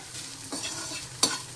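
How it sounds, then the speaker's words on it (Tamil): Tomato thokku and okra fry cooking in a pan, giving a soft steady sizzle and bubbling with two brief louder stirring scrapes, close by, with no talking. "இங்கே பாருங்கள் எப்படி தலைன்னு கொதிக்குது"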